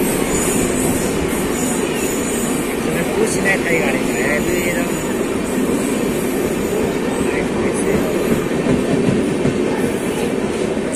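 A passenger train running on rails, heard from inside the carriage as a steady, loud rumble with faint wheel squeal and clatter throughout, and a voice talking over it.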